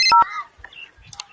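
A phone signals an incoming call with a quick run of electronic beeping tones: two strong bursts at the start, then fainter chirps. It sounds close and fairly loud, with no one speaking over it.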